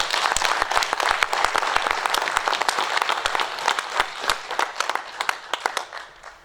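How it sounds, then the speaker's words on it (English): University staff and partner organisations clap for themselves at a research week partners' event, a dense burst of applause that holds steady and then thins into scattered, separate claps toward the end. "I'd want to ask the university staff here and the partners to clap hands for ourselves"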